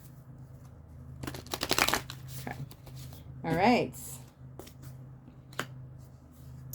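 Tarot cards being shuffled by hand, a few dense riffling bursts close by, with someone talking briefly before and after.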